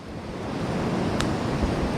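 Steady wind gusting across an open beach at Fleetwood, UK, blending with rolling surf into a continuous broadband roar that buffets the microphone, with no voices.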